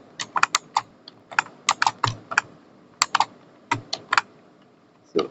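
Close, crisp typing on a computer keyboard while writing web code, with quick bursts of keystrokes separated by short pauses, heard alone with no talking.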